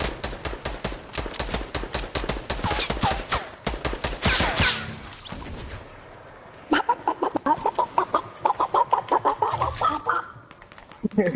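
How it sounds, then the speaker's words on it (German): Fortnite chickens clucking in quick, repeated close bursts with gunfire-like rattling, a brief quieter lull, then another run of clucks. "Der hat da gerade so Hühner im Hintergrund"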